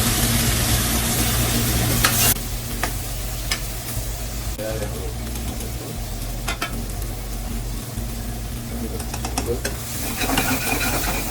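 Onions sautéing in a pan while making mutton leg soup, giving a steady sizzle with stirring scrapes and occasional clinks throughout, with a low continuous hum underneath.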